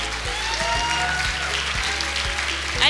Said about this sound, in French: Et on peut les applaudir bien fort s'il vous plaît